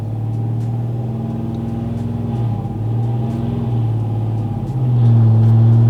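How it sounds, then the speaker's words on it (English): A Chevrolet Silverado with a 5.3 engine and a Texas Speed Stage 4 cam is driven on a dyno. Its loud, steady low engine drone shifts pitch partway through and then climbs in a strong surge near the end. "Dyno is in vehicle simulation mode right now, so we're just gonna go ahead on and drive it."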